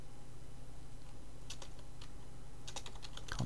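Keystrokes on a computer keyboard while entering figures into an Excel savings spreadsheet, a few scattered clicks then a quicker burst near the end over a steady low hum.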